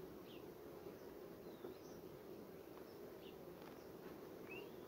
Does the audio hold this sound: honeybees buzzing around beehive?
yes